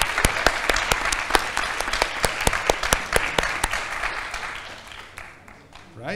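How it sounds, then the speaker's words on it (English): Audience at a pony fan convention panel bursts into sustained applause for the convention volunteers, dense overlapping claps that fill the room and slowly thin out toward the end. "big applause to the volunteers of all conventions"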